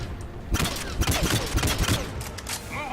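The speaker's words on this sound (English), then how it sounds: "Commander, trooper on the gun!" A mounted gun in Mass Effect 3 fires in rapid bursts of sharp, loud cracks with short pauses between volleys, mixed with combat noise and faint background voices.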